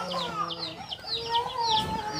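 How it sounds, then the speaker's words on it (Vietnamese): Chickens cluck and call in a mountain village of the Raglai people in Ninh Thuận, several close, overlapping clucks and short squawks against a light outdoor background. "Anh quay qua đó mấy con gà kìa."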